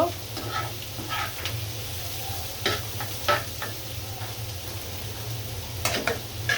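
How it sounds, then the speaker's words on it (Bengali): Chopped onion sizzles in oil in a wok on the stove, a steady low frying hiss broken by occasional stirring clicks and scrapes; no one speaks. "কড়াইতে তেল দিচ্ছি, পেঁয়াজ কুচি"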